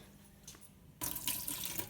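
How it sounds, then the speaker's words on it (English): A kitchen tap suddenly turns on and runs steadily, water pouring into a pot with a broad rushing splash for nearly a second after a quiet start. "You gotta fill that shit up with water."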